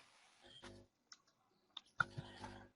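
Computer keyboard keys tapped in two short bursts while typing router configuration commands, close and fairly quiet, with a pause of near silence between the clattering runs.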